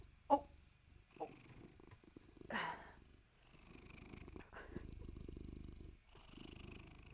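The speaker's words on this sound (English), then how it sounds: "you can hear he's purring." A male pet cat purrs with a low, steady rumbling close by, broken by a few soft rustles and brief sounds of handling.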